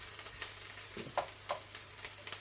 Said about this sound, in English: So you're frying out the cloves so you can get the like the taste of it.